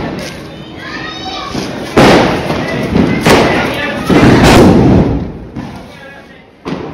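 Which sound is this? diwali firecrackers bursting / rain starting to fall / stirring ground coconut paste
diwali firecrackers bursting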